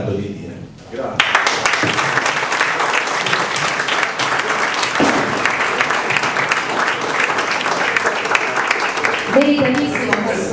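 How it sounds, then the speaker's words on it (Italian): A conference audience bursts into sustained applause after a speech on corruption, dense loud clapping starting abruptly and continuing steadily to the end. "Benissimo questo applauso, Aderio,"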